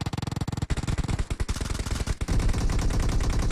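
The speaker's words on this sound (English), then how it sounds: "Ted taken out with an Uzi by Chokin." Uzi gunfire in a PUBG Mobile match: rapid bursts of sharp automatic shots, loud and close, firing in quick strings with brief gaps before merging into a denser volley.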